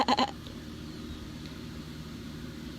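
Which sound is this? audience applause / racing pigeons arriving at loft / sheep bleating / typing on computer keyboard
sheep bleating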